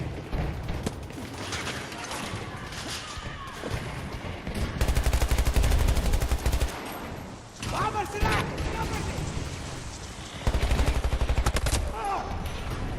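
Rapid bursts of automatic gunfire rattle through a video game shooter match, loud, close volleys, sometimes stretched into long sprays, alternating with shorter pauses, while players talk over the action.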